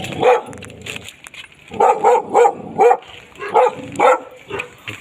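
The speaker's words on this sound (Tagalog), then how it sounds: "Siyempre may aso." A dog barks repeatedly in short bursts at a gate in Baguio, some in quick pairs, fairly close and loud, with a few gaps between volleys.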